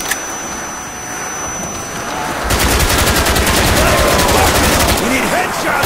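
Rapid video-game gunfire aimed at zombies, a loud sustained volley of shots beginning midway after a quieter stretch and continuing to the end, with game noise and voices mixed in.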